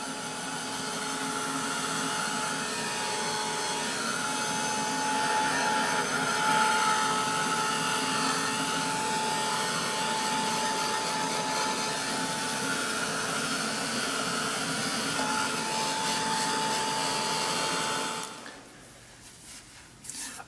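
A hair dryer blowing on wet paint, a steady loud whir with a constant high whine that runs unbroken for about eighteen seconds before switching off, leaving faint room noise.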